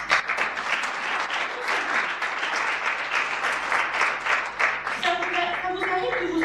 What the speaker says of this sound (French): on va tous s'applaudir, tous, parce qu'on est prof.